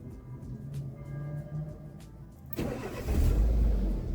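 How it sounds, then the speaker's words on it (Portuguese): A car engine cranks under the ignition key for a couple of seconds, then catches and starts with a loud, low rumble that settles into a steady run. "Olha lá que partida bonita, hein?"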